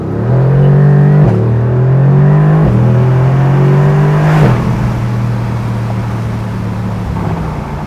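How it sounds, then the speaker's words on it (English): A 2020 Mercedes-AMG GT R Roadster engine revs loud and close through its deep exhaust, climbing in pitch three times with sharp drops between shifts before settling into a steady drone. "that exhaust is just rich, it's deep"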